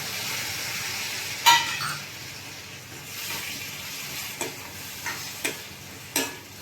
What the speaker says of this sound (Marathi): थोडासा हलका मसाला फ्राय करायचा आहे तेलामध्ये, म्हणजे कच्चा राहत नाही।